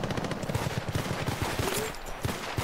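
Rapid gunfire fills a firefight in the video game Battlefield: Bad Company 2, with dense automatic bursts and overlapping shots cracking steadily throughout, loud and busy with no talking.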